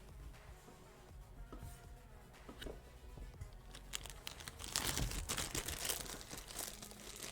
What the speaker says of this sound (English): I forgot about the crinkly noise near the microphone